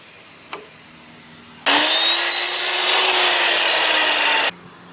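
A power saw cuts wood pieces to length for a DIY frame: a sudden loud, steady whine and rasp lasting about three seconds after a faint click, then stopping abruptly.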